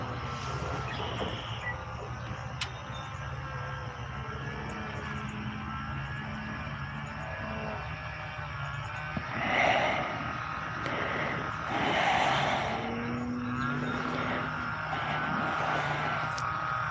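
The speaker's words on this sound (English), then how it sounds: "That airplane flies good, John." A model airplane at a flying field hums overhead in a steady engine drone that swells twice as it passes closer, with faint outdoor ambience and no talk.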